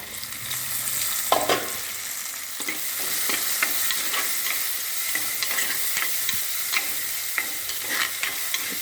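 Tomatoes fry in a pan for a fish curry, giving a steady close sizzle broken by repeated scraping stirs of a spoon, with no talking over it.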